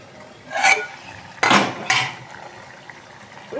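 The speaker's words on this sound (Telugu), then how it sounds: "2 నిమిషాలు అయిందండి. మూత తీద్దాము." Lid lifted off a pot of simmering mutton curry in a home kitchen, giving three sharp metallic clanks of lid against pot, the middle one loudest, close by with no talking.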